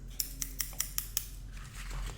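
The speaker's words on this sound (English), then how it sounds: "you're going to want to take your scissors" Six crisp scissor snips cutting an egg carton in a quick, even rhythm, close up and quiet, followed by a soft rustle of cardboard.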